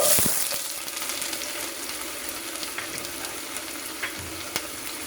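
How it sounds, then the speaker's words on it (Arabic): Chopped onions fry in a quarter cup of hot oil in a home kitchen, giving a steady soft sizzle with a few faint clicks and knocks near the end, with no one talking. "هسه ضفت اني ربع كاب زيت. هسه راح احمس البصل"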